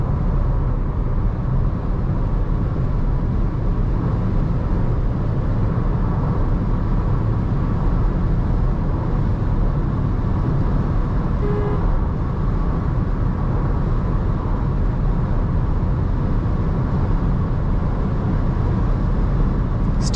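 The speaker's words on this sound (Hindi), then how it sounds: "जब हाई स्पीड पे इस गाड़ी को लेके जाते हो तो पूरी गाड़ी बहुत नॉइजी है। विंड नॉइज बहुत आती है दोनों तरफ से।" Steady broadband wind roar and road rumble fill the cabin of a Volkswagen Virtus cruising at high speed, constant and loud throughout with no voices, only a faint brief tone near the middle.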